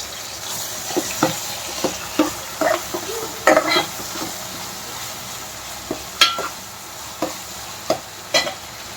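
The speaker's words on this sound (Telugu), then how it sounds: "అల్లం వెల్లుల్లి పేస్ట్ వేసిన తర్వాత పచ్చివాసన పోయేంత వరకు మగ్గనివ్వండి" Prawns stirred with ginger garlic paste in a pan for a prawn and okra curry: soft, steady sizzling underneath repeated sharp scraping and tapping of a spoon against the pan, close and without talk.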